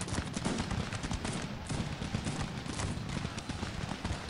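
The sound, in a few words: French troops firing muskets in video game Cossacks 3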